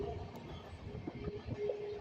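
Low steady rumble of a train rolling toward Delhi Junction railway station, heard from inside as a faint continuous drone with soft rhythmic clatter and no talking.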